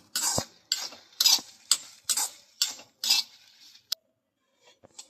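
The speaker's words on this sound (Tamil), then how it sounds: "நம்ம இப்போ இந்த காஞ்ச மிளகாய் போட்டு நல்லா கொஞ்சம் வறுத்துக்கலாம்." Dried red chillies dry roasted without oil in a kadai for idli podi, a series of sharp scraping stirs and rattles from a spoon against the pan, close and intermittent, ending in a few faint clicks.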